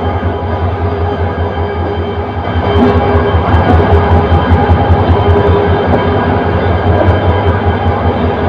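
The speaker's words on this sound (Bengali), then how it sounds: "এই যে তুরাগ কমিউটার ট্রেনটি কমলাপুর রেল স্টেশন থেকে ছেড়ে যাচ্ছে।" The Turag Commuter train, hauled by a 2700 series locomotive, departs Kamalapur railway station in Dhaka for Joydebpur. A steady, loud rolling rumble with a low drone swells after a few seconds into heavier wheel-and-engine noise, with no talk.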